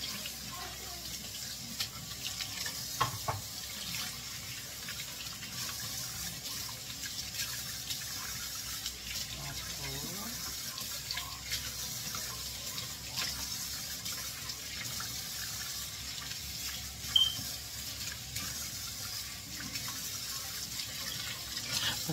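Tap water running steadily into a kitchen sink while shrimp are rinsed, a soft continuous splash at low level with occasional small knocks.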